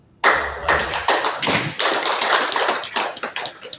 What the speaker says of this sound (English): And I want to request people to clap hands to Honorable Rita.